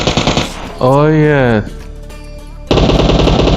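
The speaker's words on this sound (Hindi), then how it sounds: "हवाई फायरिंग करता हूँ।" Loud automatic gunfire bursts from PUBG, a rapid close-range rattle that stops briefly while a man exclaims, then resumes at full volume.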